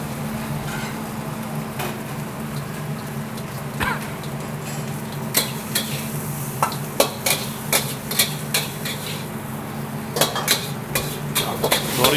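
A spoon works through dory fish in a thick butter sauce in a restaurant kitchen pan, with irregular metallic scrapes and taps that grow busier toward the end over a constant low kitchen hum and gentle bubbling.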